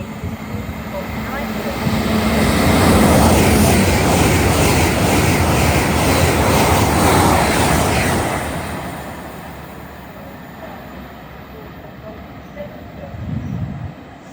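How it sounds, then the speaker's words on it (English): A train passes Burnham station on the line between Slough and Burnham, a broad loud rumble and rush that swells over several seconds, holds, then fades into quieter ambience. "This train is currently between Slough and Burnham."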